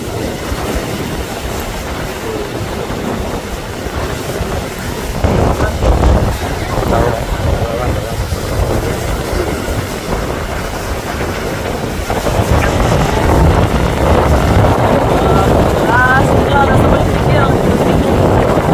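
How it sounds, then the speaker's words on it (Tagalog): Heavy wind buffeting a camera microphone at sea, a constant low rumble that swells louder partway through, with a voice talking faintly underneath. "Narinig ko sa camera na, lakas ng hangin na."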